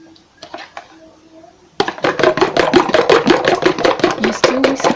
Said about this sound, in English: So you're whisking this properly.